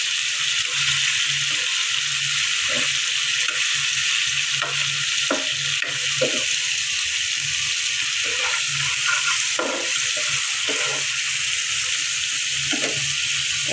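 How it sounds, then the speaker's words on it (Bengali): Fish pieces sizzle loudly in hot oil and spice masala in a pan, a steady bright frying hiss broken by scraping spatula strokes as the fish is turned and stirred, with no talking. "মাছগুলো দিয়ে দিলাম, এখন ভালোভাবে নেড়ে চেড়ে নেব"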